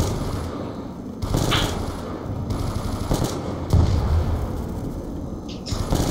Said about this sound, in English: So you can shoot zombies quicker.